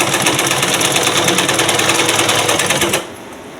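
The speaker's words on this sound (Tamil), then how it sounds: "நம்ம இதை தைச்சி விட்டுக்கிடலாம்." An electric sewing machine runs steadily while stitching a blouse, a loud, fast, even mechanical chatter close up for about three seconds before it stops, leaving only a low hum.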